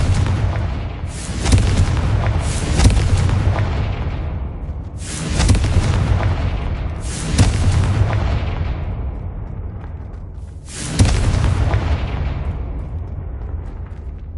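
In the video game Hogwarts Legacy, the explosive spell Confringo goes off several times as deep, roaring booms, each with a long rumbling tail that overlaps the next blast.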